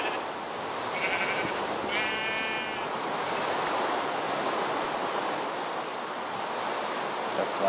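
Sheep bleat in the multiplayer video game Life in the Woods, a couple of short wavering bleats rising over a steady rushing, wave-like ambient wash, with no talking.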